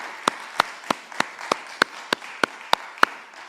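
A church congregation claps in thanks after worship singing: about ten sharp, evenly spaced claps in a steady beat over a quiet room.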